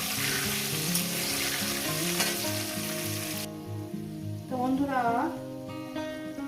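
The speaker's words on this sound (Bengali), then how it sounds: "আমি আলুগুলো সুন্দর করে লাল লাল করে ভেজে নিলাম" Potato pieces fry in hot oil until browned, giving a continuous, close sizzle that plays under background music.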